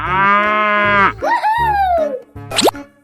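A cow gives a long, loud, drawn-out moo in a 3D animal video game, sliding down in pitch over a thumping game beat, followed by a quick springy boing effect.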